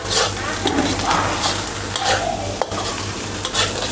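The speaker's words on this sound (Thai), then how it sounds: "เทไข่เทไข่ลงไปผัดไปเรื่อย" Egg for a salted egg sauce is stir-fried in a pan, a steady close sizzle with scraping from the spatula and a low hum underneath, plus one brief clack of utensil on metal.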